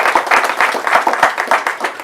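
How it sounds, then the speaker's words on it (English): An audience at a summit in Ghana applauds with a steady, moderately loud patter of many hands clapping, sustained throughout without voices. "Please give him a big round of applause."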